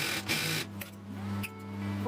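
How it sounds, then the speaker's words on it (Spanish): A sewing machine quilting lines through denim fabric for a padded jeans crossbody bag, running in a steady mechanical hum with brief pauses and restarts, moderately close and with no talking. "Vamos a coser por todas las líneas para lograr un acabado hermoso."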